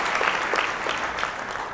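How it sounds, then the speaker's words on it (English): A crowd at a drone industry event applauds the fire teams, a steady wash of many hands clapping at moderate volume for the whole short stretch, with no voices over it. "So I just wanted to give a clap to all the fire teams here."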